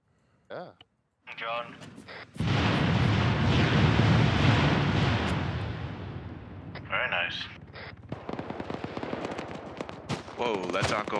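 Gunfire and explosions in the military video game Arma 3: a long, loud roaring burst of fire, then rapid shot bursts, with players' voices talking over the combat.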